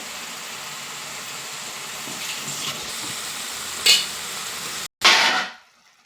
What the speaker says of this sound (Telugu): చూసారా కర్రీ ఎలా మగ్గుతుందో